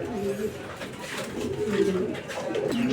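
A pair of Indian High Flyer pigeons coo in repeated low, rolling phrases, close and moderately loud, the calls rising and falling through the whole stretch.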